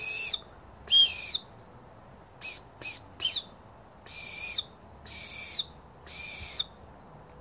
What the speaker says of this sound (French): comment on va le synthétiser en sifflet? Bah, c'est 3 coups longs.